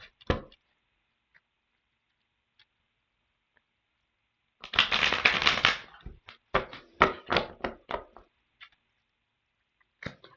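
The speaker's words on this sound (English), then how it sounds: "So I'm going to be shuffling this deck." A deck of tarot cards is shuffled in a quiet room: one dense burst of riffling, then a series of sharp, separate card taps and snaps, each close and fairly loud, with silence around them.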